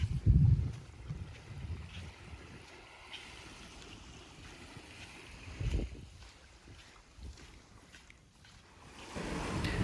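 Gentle ocean waves wash onto a sandy spit at a Maldives beach, soft and fairly distant surges of surf with light wind, rising and falling every few seconds.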